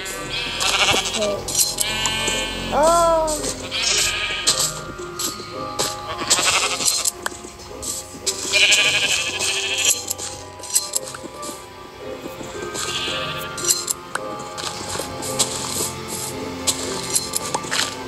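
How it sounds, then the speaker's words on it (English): Sheep bleat repeatedly in the video game Minecraft, several wavering calls, some close and loud, with clinking item sounds and background game music around them. "Sheep."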